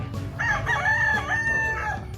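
A rooster at a backyard chicken breeder in Lipa, Batangas gives a single loud, close crow lasting about two seconds, with faint background noise beneath it.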